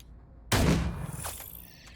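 Gunfire in the tactical video game Cyber Knights Flashpoint, a single sharp, loud shot cracking out of quiet and ringing off with a short metallic tail.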